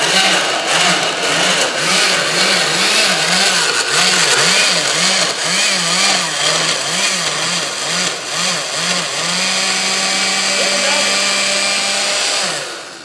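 A blender whirs through strawberries, blueberries and raspberries, a loud close motor with a pulsing, wobbling drone that steadies toward the end and cuts off just before the finish, with no talking.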